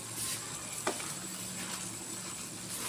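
Okra frying in a pan after chillies have been sautéed, a steady low sizzle running throughout with one brief clatter near the start, no talking.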